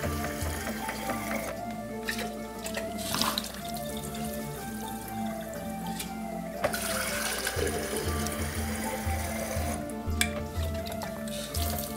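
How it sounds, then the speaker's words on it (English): Water splashes and trickles steadily for several seconds, with a few louder gushes and drips close by, as water is poured out of a broccoli sprouting jar into a sink. "you can just pour the water out so easily, just like that"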